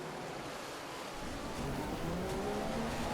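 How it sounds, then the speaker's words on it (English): Engine noise from an F1 car in the F1 2015 video game at the Italian circuit, a steady loud whine with pitch sweeping as the car slows for a corner, continuous throughout. "Don't forget to brake for the corner, Ches"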